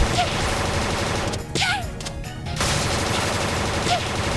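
Guns mounted inside a ship in the Freedom Planet video game fire in rapid, loud, crackling bursts that break off briefly mid-way and then resume.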